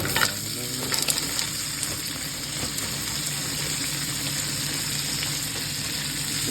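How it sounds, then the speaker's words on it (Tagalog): Garlic fried rice sizzles and crackles steadily in a pan, a continuous close frying hiss with occasional stirring scrapes and no talk. "Gawa tayo na sinangag."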